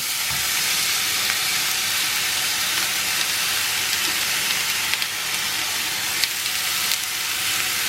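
Grated beetroot sautéing in a hot pan for a beetroot chutney, giving a loud, continuous close sizzle with occasional stirring scrapes.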